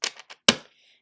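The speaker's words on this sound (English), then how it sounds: "as I'm shuffling" Tarot cards are shuffled in a few quick riffling bursts, then a sharper snap of cards settling, brief and close with no talk.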